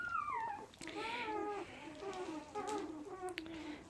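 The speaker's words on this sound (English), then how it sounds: "The puppies are a day and a half old." Newborn puppies a day and a half old whimper and squeal in a series of high, wavering cries, close and fairly clear, with short pauses between bursts.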